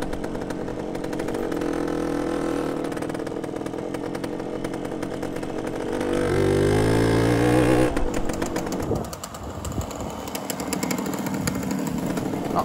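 Suzuki RV125 sand bike, a classic small motorcycle, heard on a short ride with a buzzing two-stroke-style engine droning steadily, rising in pitch as it revs and then easing off, loud and close with no talking.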